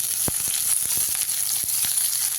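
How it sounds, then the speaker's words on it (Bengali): Chopped bitter gourd frying in hot oil for a lentil dal makes a dense, steady hiss close up, broken by faint irregular ticks and pops throughout. "এবারে এর মধ্যে দিয়ে দিতে হবে কেটে রাখা উচ্ছেগুলো সেটাকে দিয়ে খুব ভালো করে লাল লাল করে ভেজে নিতে হয়"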